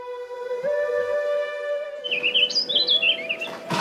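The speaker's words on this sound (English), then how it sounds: "This is the Baltimore Oriole." Baltimore Oriole singing among leafy trees: a steady held whistle-like tone gives way to a run of clear, rich warbled notes, close and fairly loud with no talk.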